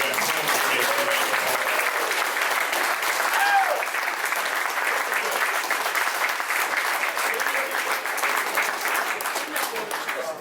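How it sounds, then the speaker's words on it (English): Audience applause at a real estate talk, sustained dense clapping from a crowd lasting throughout, steady and fairly loud. "A big round of applause."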